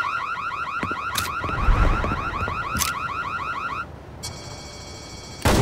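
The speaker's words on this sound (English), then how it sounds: "Oh no. It's an alarm." In an open-world mobile crime game, a car alarm blares loud and close, cycling through rapid warbling tones and then a steady beeping pattern, with scattered bangs and clatter underneath.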